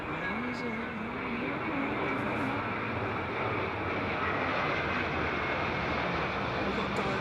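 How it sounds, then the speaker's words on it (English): A Virgin Atlantic airliner comes in to land at Heathrow in gusty crosswind conditions, its steady engine roar continuous and fairly close, with wind rumble and people talking over it. "number one to land. Virgin Atlantic. Straight in. A little bit bumpy."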